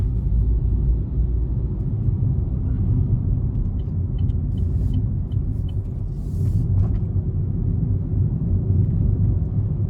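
A 2021 Chevy Spark LT small car rumbles in a low, steady drone under hard acceleration, heard close from inside the cabin with no talking.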